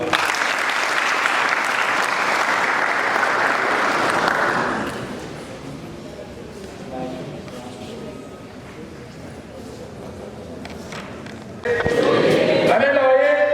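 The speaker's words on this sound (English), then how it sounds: "Please a round of applause for him." A conference audience at a DevFest developer event in Bamenda applauds the keynote speaker with loud, dense clapping for about five seconds. Quieter murmuring follows, then a fresh burst of clapping and cheering near the end.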